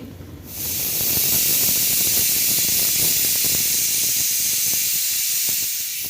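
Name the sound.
pressure cooker steaming and hissing while cooking ash gourd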